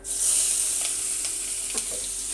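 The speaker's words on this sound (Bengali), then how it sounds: "এটা একটু মোটামুটি আমি ভেজে নেবো" Shrimp coated in turmeric and salt fry in a pan, a loud steady sizzle close up with a few faint stirring scrapes and no talk.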